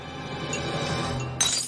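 A drinking glass breaks with a bright, sharp shatter near the end, following a quiet stretch of low room hum in a cartoon kitchen scene.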